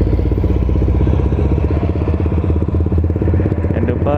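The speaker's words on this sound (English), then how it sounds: "Bising dah motor ni." A motorcycle engine fitted with a 63.5mm cylinder block runs noisily at a steady idle, its loud, rapid, even chugging close to the microphone and continuous throughout, with no voices over it.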